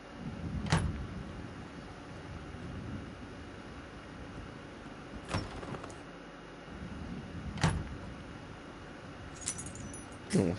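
Keys picked up in the Dreams video game: a few sharp metallic jingles spaced seconds apart, close and fairly clear over a low continuous background hiss, no talk.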